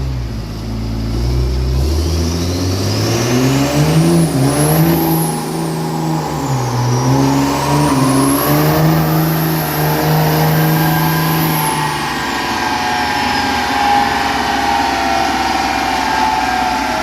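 A truck engine revs hard on a dyno, a loud sustained roar climbing and falling in pitch, with a high turbo whistle sweeping up and down over it.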